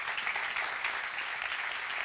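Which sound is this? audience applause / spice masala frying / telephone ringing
audience applause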